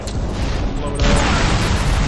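Loud broadband blast bursts out midway in a video game after a horse-drawn cart is blown up, a dense booming rumble sustained over steady game noise, with players talking over it.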